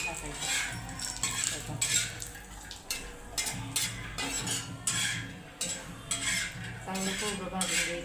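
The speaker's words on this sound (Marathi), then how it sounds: "चांगलं खोबरं भाजून घ्यायचं" Grated coconut roasting in a little oil in a pan, a metal spoon scraping and clinking against the pan in irregular strokes over a faint sizzle, close and fairly quiet.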